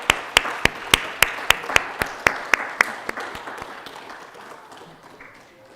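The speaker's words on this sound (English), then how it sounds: "we have one more chance to give her a big applause" An audience at a Won Buddhism service claps for a reverend, a series of sharp, evenly spaced claps that grow fainter and fade out.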